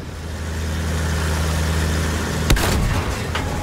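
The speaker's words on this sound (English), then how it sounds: "I've got a plane that shoots cannons. Tank cannons." A tank hunter attack plane in Battlefield 1 fires its tank cannon once with a sharp, loud blast that echoes off, over a steady droning engine hum.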